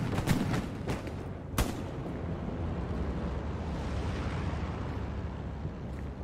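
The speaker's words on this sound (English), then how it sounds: "Shooting all over the place." Gunfire in a Hell Let Loose World War II battle, with a few sharp shots early on, one loud crack near the middle, and then a dense, steady rumble of distant firing and battle noise.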